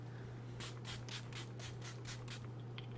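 Rosewater facial tonic sprayed from a pump mist bottle, a rapid series of about eight short soft hisses close to the microphone over a low background hum.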